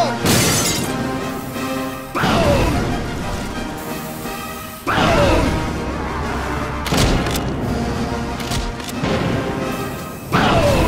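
Glass shattering repeatedly in the zombie game Dying Light, a series of loud crashing smashes with ringing shards, several separate breaks spaced across the stretch, close and dominant with no speech over them.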